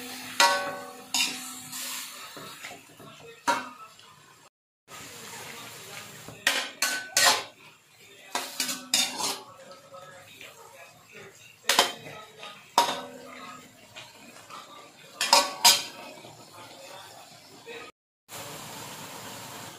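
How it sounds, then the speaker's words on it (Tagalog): A utensil repeatedly scrapes and clanks against a pan while pork steak is stirred, sharp metallic strokes coming in irregular bursts with brief quiet gaps and a low sizzle underneath. "Halo ulit."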